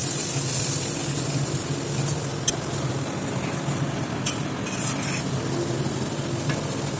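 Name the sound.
stirring spiced fish mixture in a pan while cooking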